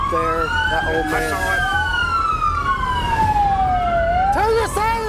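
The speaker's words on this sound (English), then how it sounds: "Turn your sirens off!" A police car siren wails loudly nearby during a motorcycle chase, its pitch sweeping up and down in long cycles, then switching to a rapid yelp near the end over engine rumble.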